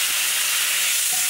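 Tomato and onion dropping into a pan where garlic is already frying, giving a steady hiss of sizzling oil with no talk.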